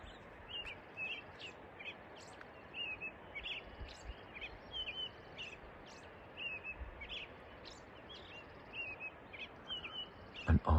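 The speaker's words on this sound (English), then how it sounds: "Listen to the birds singing." Birds sing near an Alaskan glacier in a wet, icy area, with repeated short high chirps and tweets at a moderate distance over a low ambient wash, plus a brief thump at the very end.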